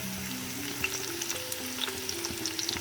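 Onions frying in a pan with garlic and ginger added for a green chickpea pulao, a steady crackling sizzle with faint stirring scrapes, continuous and fairly quiet with no talk.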